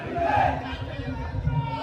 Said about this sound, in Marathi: एक एकच जल्लोष होतोय उत्साह वाढवत आहेत